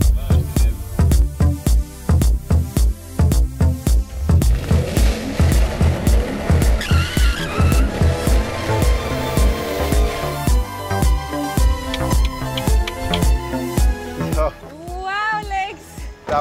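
A Lexus RC F sports car is driven hard, engine revving loud and close in repeated surges with tires squealing through turns, overlaid by music.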